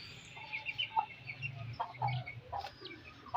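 A hen clucking close by, a series of short irregular clucks and soft calls with quiet background noise between them, no talking.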